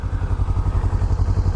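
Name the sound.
Kawasaki Ninja 300 motorcycle engine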